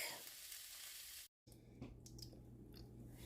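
Ham and onions browning in a pan give off a steady, close sizzle and hiss that cuts out briefly, then resumes with a few soft clinks.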